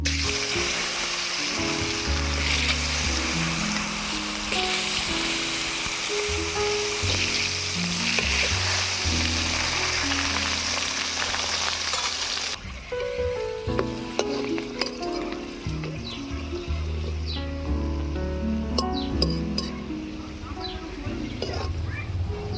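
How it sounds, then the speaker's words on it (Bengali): Potato pieces fry in hot mustard oil with a loud, dense, continuous sizzle and occasional stirring clatter; the sizzle eases slightly partway through but keeps going to the end over a steady tonal background. "আলু ভাজা হয়ে গিয়েছে, তুলে নেব।"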